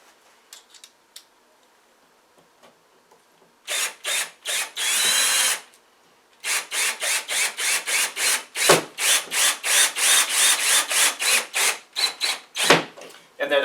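Power drill driving a screw into drywall during a hole patch repair, a long whirring burst followed by a rapid series of short, loud pulsing bursts close by, with small clicks and handling noise at the start.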